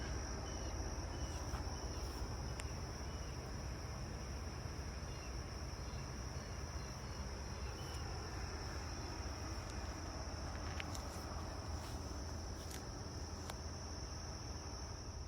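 Many bees swarm around commercial beehives on a farm, making a faint, continuous outdoor drone with a thin, steady high whine.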